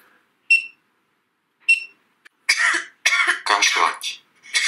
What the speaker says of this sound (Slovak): Kašľať.